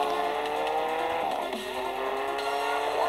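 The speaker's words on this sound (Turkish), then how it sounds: "Her yerde drift atıyorum arkadaş ya." A car drifts in the Gangstar Vegas video game, its engine whining under a long, wavering tire squeal that bends in pitch mid-slide, loud and continuous with no speech.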